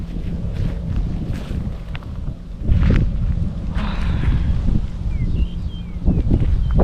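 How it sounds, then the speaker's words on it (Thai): Wind blowing steadily across an open rural spot, a constant low rushing roar with gusts buffeting the microphone, loud and close, with no one speaking. "มีแต่เสียงลม"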